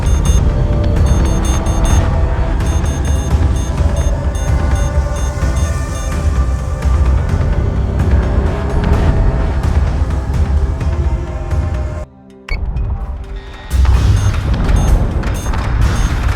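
Incoming missiles exploding in a space battle in Battlestar Galactica Deadlock, a loud, dense wash of rumbling blasts and booms that continues almost unbroken, dropping out briefly before surging back.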